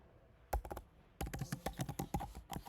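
Computer keyboard typing a line of Java code, a brief burst of keys, a pause, then a steady run of crisp, close clicks with no voices.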